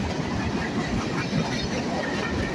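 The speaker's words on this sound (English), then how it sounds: "train cars, couple of train cars" Freight train of boxcars and tank cars rolling past, a steady low rumble and rattle of wheels on rails, close and continuous without a break.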